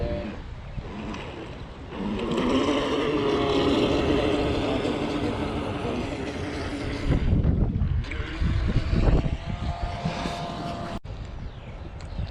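A small motorboat passes on open water at dusk, its engine a steady, fairly loud drone that swells and fades a little over several seconds, with no speech.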